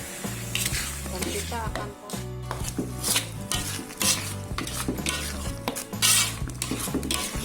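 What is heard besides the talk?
ground boiled chili stirred into rendang in a pan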